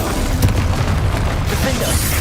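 A Bombarda spell detonates in Hogwarts Legacy combat: a dense, roaring blast with booming low rumble, followed by continuous explosive noise and scattered cracks.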